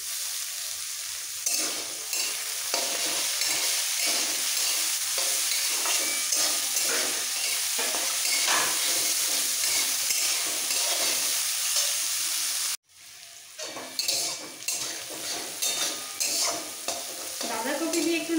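Cabbage, carrots and beans stir-frying in a pan sizzle loudly and continuously with repeated scraping stirs, broken by one sharp momentary cut before the frying and stirring resume.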